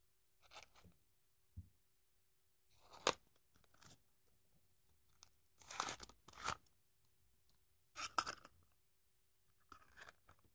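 Packaging for a Tomica No.90 UD Trucks Quon ENEOS tanker lorry toy being opened, with bursts of cardboard and plastic tearing and crinkling separated by quiet pauses, close and crisp, with no talking.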